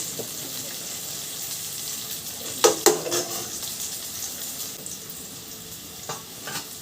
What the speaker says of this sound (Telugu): కొంచెం వేగిన తర్వాత ఎగ్ వేసుకోవాలి.